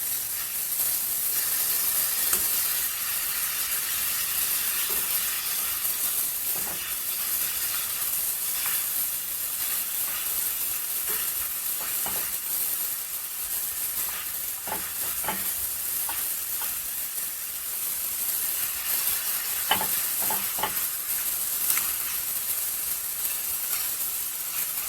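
Shrimp sizzle loudly in a frying pan for Tunisian brik, a continuous bright hiss broken by scattered pops and sharp crackles.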